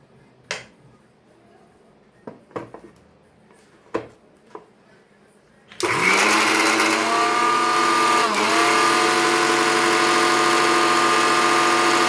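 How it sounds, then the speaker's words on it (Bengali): After a few scattered knocks and clatters, a blender grinds dosa batter loud and close, its steady motor whine running without a break for the remaining six seconds. "দিয়ে এটাকে আমি ভালোভাবে ব্লেন্ডারে ব্লেন্ড করে নেব।"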